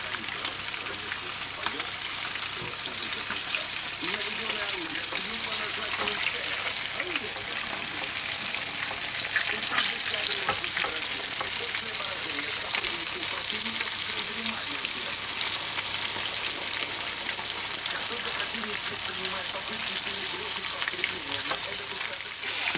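Fish fries in a pan during a fishing trip in Kamchatka, a loud, dense, continuous sizzle and crackle throughout, with occasional faint voices beneath it.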